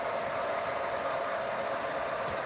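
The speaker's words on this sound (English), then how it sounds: "Pretty cool stack train" Union Pacific double-stack freight train rolling past on the Evanston Subdivision, a steady, loud, continuous rumble with wheel and rail noise and no voices.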